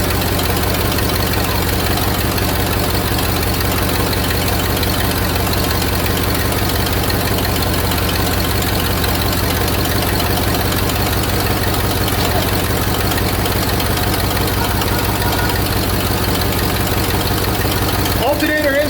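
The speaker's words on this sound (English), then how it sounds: "We're gonna let it idle, let it warm up a bit" A 1974 Ford F100 engine idles steadily as it warms up, a loud continuous low rumble with slight knocking texture running unbroken for the full length, with a brief change near the end.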